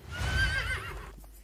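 A horse whinnies once in the fantasy role-playing game Drakensang, a short rising-and-falling neigh with faint hoofbeats, fairly quiet and on its own.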